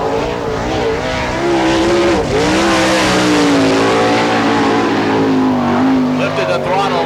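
A sprint car runs a qualifying lap at Barberville speedway, its loud engine whining and sliding in pitch as it lifts and accelerates through the turns. A commentator talks over the engine noise.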